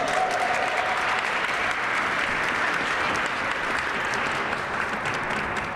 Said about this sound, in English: Now, that wasn't a performative round of applause because they deserve that